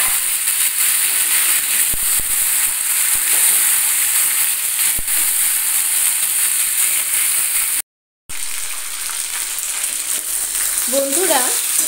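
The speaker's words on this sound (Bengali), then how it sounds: "কেটে রাখা ওলের টুকরোগুলোও একসঙ্গে ভেজে নিতে হবে আলুর" Elephant foot yam pieces fry together with potatoes in hot oil as a loud, dense, continuous sizzle close to the pan, broken by one short gap of silence.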